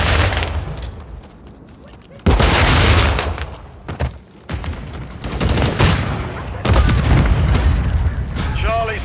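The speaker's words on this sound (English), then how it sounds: "Throwing a Semtex." A Semtex grenade explodes during a Call of Duty MW3 Domination match on the Wasteland map, a loud booming blast amid continuous heavy gunfire and bursts, with voices talking over the battle noise.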